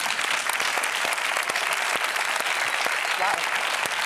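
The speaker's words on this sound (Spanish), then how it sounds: "Vamos a darle un fuerte aplauso, por favor." Applause from a TV studio audience during a live hypnosis show, dense steady clapping filling the room at constant loudness, with a few sharper individual claps and faint voices mixed in.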